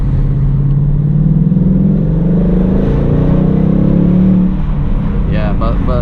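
A 2018 Ford Mustang GT with a V8 and manual gearbox accelerating hard: a deep, loud engine drone rising steadily in pitch for several seconds, then cutting off as a voice comes in near the end.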